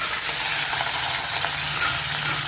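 Curry leaves, green chili, ginger and cumin seeds sizzle in hot oil, a dense, steady crackling fry close up with no voices.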